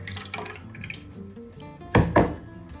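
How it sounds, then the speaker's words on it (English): Double cream poured into a pan of melted butter in a home kitchen, giving a soft liquid pour with two louder splashing bursts near the end and faint pan clatter, no voices. "We can dump in the rest of our double cream."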